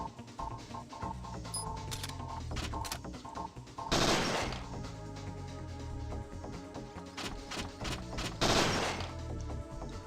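Handgun shots from the PlayStation game Parasite Eve 2, a series of sharp reports spread across the stretch, with two heavier blasts standing out over a continuous game soundtrack.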